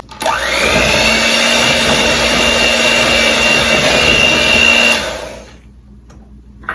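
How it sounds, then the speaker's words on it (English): An electric mixer on medium speed runs through sourdough lemon pound cake batter as flour is worked in, a loud steady whirring drone that holds for about five seconds and then cuts off. "we're gonna mix this on medium speed until all the way combined"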